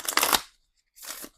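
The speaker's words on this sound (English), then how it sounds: "I will shuffle these" A deck of playing cards is shuffled in two quick riffles, each a brief crisp flutter of cards close up, separated by a short silence.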